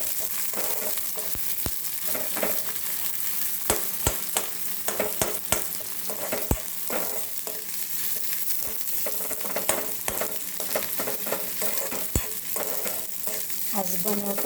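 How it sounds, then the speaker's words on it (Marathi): Onion frying in a pan until reddish-brown for eggplant bharit, a continuous soft sizzle broken by frequent sharp clicks of a spatula stirring, close and fairly quiet, no voices. "कांदा छान लाल परतू द्यायचा."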